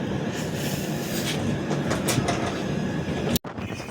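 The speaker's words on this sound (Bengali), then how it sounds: "ট্রেনটি আবার নিজের যাত্রাপথ কন্টিনিউ করছে" A passenger train from Howrah to Jammu Tawi rolls along with a steady rumble and rattling wheel clatter, heard from on board in cold weather. A sharp cut comes near the end, then the same running noise carries on.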